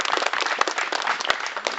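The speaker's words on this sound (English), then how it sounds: "So a round of applause for them as well, please." Applause from an audience at an evening plaque unveiling in a churchyard, a brief burst of dense clapping that stays steady and fairly loud throughout, with a few sharper individual claps standing out.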